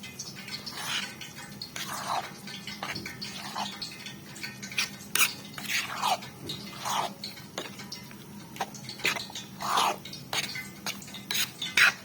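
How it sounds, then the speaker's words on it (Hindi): Semolina halwa being stirred into milk in a pot, a spoon scraping and clinking against the metal in steady, irregular strokes under a low simmering hiss, close up with no talking. "दूध भी हमने इसमें डाल दी है और उसको हम दूध में करने लगे मिक्स"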